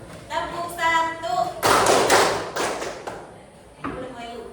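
A group in a counselling workshop claps on cue in a call-and-response clap game, a loud, slightly ragged burst of many hands after a woman's spoken prompt, followed by quieter talk.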